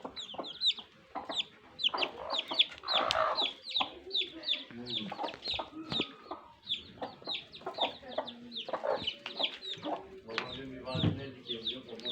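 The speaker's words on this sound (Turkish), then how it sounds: "Kara horoz, sakallı horoz." Hens cluck and chatter continuously close by, with a black bearded rooster among them; the sounds overlap in a busy, steady barnyard din.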